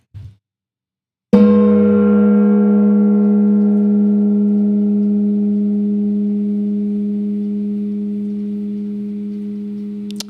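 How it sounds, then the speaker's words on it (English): A single gong strike rings out after a brief knock, then a loud sustained metallic tone decays slowly over about nine seconds. "And I'll strike the gong to that."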